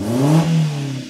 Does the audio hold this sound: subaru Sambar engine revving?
yes